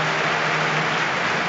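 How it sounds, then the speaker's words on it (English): Fans standing in the stands at Easter Road keep up a dense, loud roar of clapping before a Hibernian against St. Mirren match, an unbroken wash of crowd noise. "All the fans, or most of the fans, up on their feet applauding"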